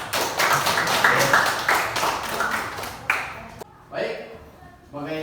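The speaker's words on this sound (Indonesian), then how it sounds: "tepuk tangan untuk kelompok 4" Classroom audience applauding a student group during a teaching practice session, a steady burst of close, dense clapping that fades out into softer scattered claps and room noise.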